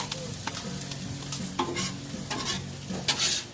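Food being stirred on a Blackstone griddle in an outdoor kitchen, a steady soft sizzle under repeated scraping and clinking of a spatula against the metal surface, fairly close and without talk.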